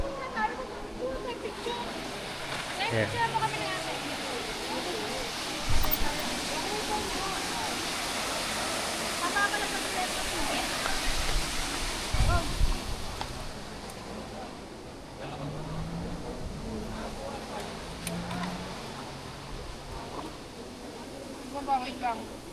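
Canal water in Amsterdam makes a steady, broad rushing wash that runs the whole time, close by and moderately loud, while people chat over it.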